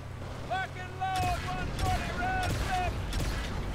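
Bursts of rapid turret gunfire from a Warthog in Halo 2 Anniversary, several volleys in close succession over continuous rumbling game noise, with whistling tones and voices in the background.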